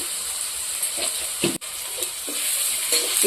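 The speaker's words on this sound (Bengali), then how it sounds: "পেঁয়াজ লাল লাল হয়ে ভাজা হয়ে গেছে" Onions frying in a pan with turmeric, a steady close hiss and sizzle broken by short scrapes of a spoon stirring.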